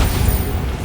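A Bombarda spell explosion in Hogwarts Legacy, a single loud, booming blast that holds steady for under a second, heard alone.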